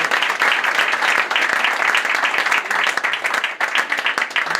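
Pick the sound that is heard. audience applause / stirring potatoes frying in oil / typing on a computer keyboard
audience applause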